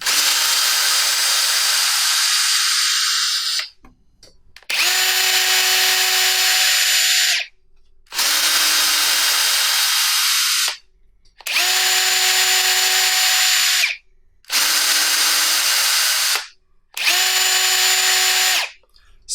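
Ryobi cordless drills, brushed and brushless, running in second gear: six separate steady whirring bursts of a few seconds each, separated by short silences, close and loud with a constant motor whine.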